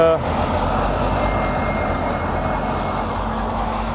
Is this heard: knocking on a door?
no